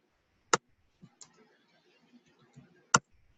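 A few sparse, sharp clicks with uneven gaps between them, like scattered keystrokes on a keyboard, quiet and close.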